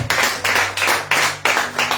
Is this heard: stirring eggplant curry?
no